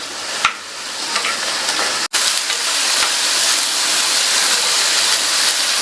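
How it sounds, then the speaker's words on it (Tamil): Ridge gourd sautés in oil on high flame with a loud, continuous hiss and sizzle. It is close and dense, with a few faint knocks of stirring and one sudden break midway. "இந்த காயை எண்ணெயிலேயே 1 நிமிஷத்துக்கு நல்லா வதக்கி விட்டுக்கங்க."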